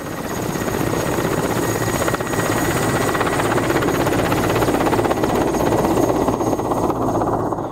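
A helicopter lifts off from a snowy village helipad in cold, windy weather, its rotor thrumming loud and continuous at close range with a steady engine whine throughout.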